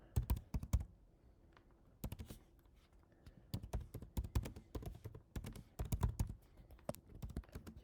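Keys clatter on a computer keyboard in quick, uneven bursts of sharp taps, close and fairly quiet, with brief pauses between runs of typing and no voices.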